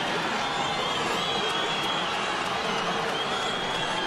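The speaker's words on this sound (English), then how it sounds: "The crowd goes berserk" A boxing crowd roars and applauds wildly in an arena, a dense, continuous wash of cheering and clapping with no clear voices standing out.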